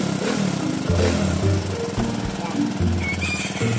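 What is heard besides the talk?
Suzuki Raider 150 motorcycle engine idling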